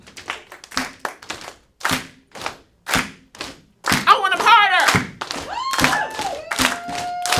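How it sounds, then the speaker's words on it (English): A comedy-show audience slaps their laps and claps, forming a series of sharp, rhythmic thumps that grow into a dense burst of clapping and cheering. A voice talks briefly between the hits. "Can I get some laps and claps?"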